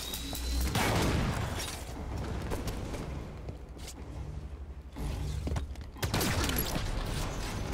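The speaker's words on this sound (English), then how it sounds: "Oh, rail guns are awesome." Railgun shots and rapid gunfire in the Halo 5 video game, with dense bursts of fire, booms and mechanical clanks running throughout at a steady, loud level with no talk.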